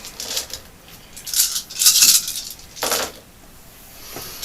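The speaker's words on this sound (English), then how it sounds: "If you could roll those dice, please, John." Dice rolled for a tabletop wargame clatter in several bright, rattling bursts, a big cluster in the middle and another shortly after, with a faint click at the end.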